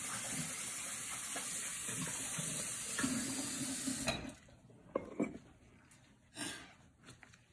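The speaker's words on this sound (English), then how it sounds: "back to washing the hands" Hands being washed under a running tap after handling a turkey, a steady broadband rush of water for about four seconds, then the flow stops and a few brief splashes and drips follow.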